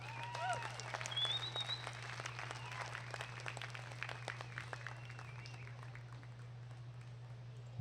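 Audience applause for the senior showmanship winners at a 2025 market goat show, a steady patter of clapping with scattered whoops and cheers over a low constant hum.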